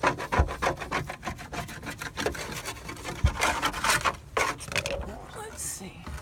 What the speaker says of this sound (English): you're scraping the remnants of the adhesive off.